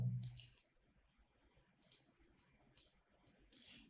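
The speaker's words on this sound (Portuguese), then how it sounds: "vou dar 2 cliques" Computer mouse double-click while editing a graphic, with a pair of sharp clicks at the start and then several more faint, quick clicks in an otherwise quiet room.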